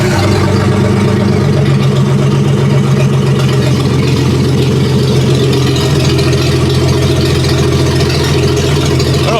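A Dodge Plymouth 230 engine runs at a steady, loud, close idle with a continuous low rumble and an even throb, and no talk over it.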